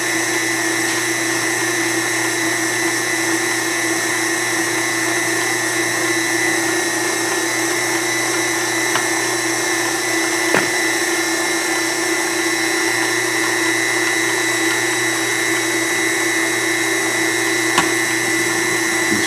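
A food processor grinds beef liver and egg with a loud, steady motor whir that holds unbroken for nearly twenty seconds, broken only by a couple of faint clicks.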